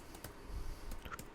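A few quiet keystrokes on a computer keyboard as a web address is typed, soft scattered clicks at close range with no talk.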